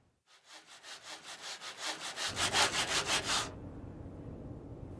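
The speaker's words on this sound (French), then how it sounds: "C'est l'enfer quand ça scie pas une scie." A hand saw cuts through wood in steady, rhythmic back-and-forth strokes, close and clear, then stops, leaving a low background hum.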